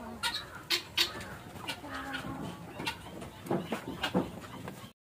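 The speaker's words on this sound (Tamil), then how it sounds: "நிறைய கோழிகள் இருக்கு." Chickens on a poultry farm cluck in short, uneven bursts. Several close birds overlap against a steady background murmur, with no talk.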